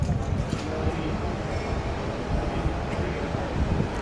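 A Western Wall train in Jerusalem rolls past close by, giving a steady, dense low rumble with rattling and some wind buffeting that holds at an even, fairly loud level across the whole stretch.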